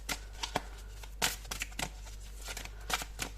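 Tarot cards riffle and snap in quick, irregular bursts over a low steady hum during a tarot reading, with close, light shuffling and a few sharper taps.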